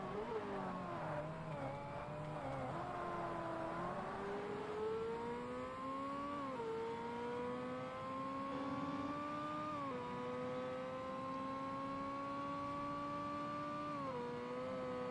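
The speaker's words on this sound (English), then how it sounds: "That's the one thing I will give Ferrari's props for. Their engines are beautiful. They sound amazing." A Ferrari 360 Modena engine in the Forza Motorsport racing game roars loudly and continuously, its pitch climbing through repeated gear changes, with no voices over it.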